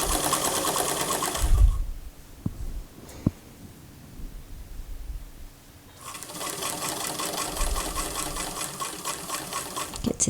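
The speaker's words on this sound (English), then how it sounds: "I'm going to be sewing it at the 5/8, locking it in, just moving forward." Sewing machine stitching clear elastic onto knit fabric, a fast rattling whir that runs for a couple of seconds, stops through a quiet stretch with a few small clicks, then resumes for a longer steady run.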